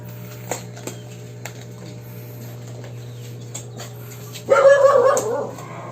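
A dog lets out one short burst of close, loud barking and yipping near the end, after a quieter stretch of faint clicks and a low background hum.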